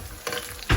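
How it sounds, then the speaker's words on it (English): Onions fry in oil at the end of browning for a tandoori chicken biryani, a short burst of close hissing sizzle that ends in a louder low bump. "So the fried onions are almost done. Just a couple more minutes on them and then I'll turn off the heat."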